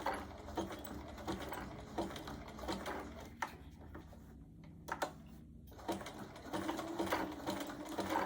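A sewing machine stitches a zigzag seam on a candle mat, running in rapid close mechanical bursts of clattering needle strokes, pausing briefly midway before resuming.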